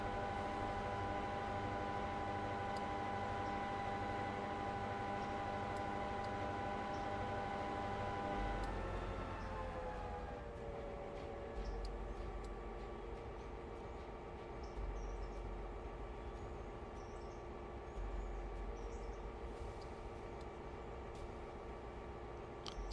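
A diesel multiple unit train in a train simulator drones steadily with a tonal engine hum that shifts pitch and settles into a lower, rougher running rumble, with no talking over it.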